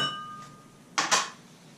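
Dishes clink against one another as they are lifted out of the lower dishwasher basket, two brief close glassy rattles after a quiet start.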